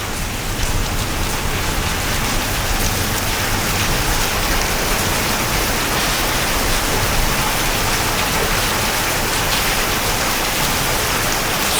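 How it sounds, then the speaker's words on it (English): Steady, even rain falls during an approaching thunderstorm, a dense hiss of drops with no pauses and no voices. "The rain's calmed down in here as well."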